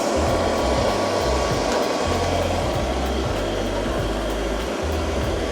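An iLife V5 Beetles robotic vacuum runs indoors with a steady, loud whirring motor hum and a low rumble that shifts in pitch now and then as it moves across the floor.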